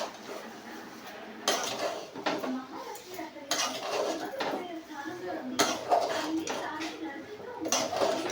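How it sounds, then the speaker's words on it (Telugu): Okra is stirred in a home kitchen pan, giving repeated scraping and clinking of a spoon against metal that comes in bursts and pauses, fairly close and moderately loud, with faint background voices. "బెండకాయ అంతా కలిపేసుకోవడం"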